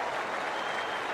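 A cricket crowd at the WACA in Perth breaks into sustained, dense applause after a boundary, with the clapping spread evenly and fairly distant across the stands.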